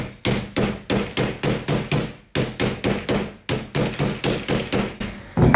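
Rapid, regular rubber hammer blows strike a copper sheet to flatten it in quick bursts, each a dull thwack with a slight ring, paused briefly midway before resuming.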